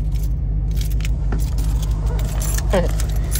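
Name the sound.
Dodge Challenger Hellcat red key jangling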